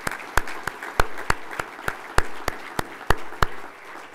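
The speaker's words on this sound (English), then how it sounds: "I hope you'll join me for another round of applause for Officer Aubrey and his rendition of the national anthem." Audience clapping at a police conference after a national anthem performance, with a few distinct, sharp handclaps standing out in a loose, regular rhythm over softer scattered clapping in a reverberant hall.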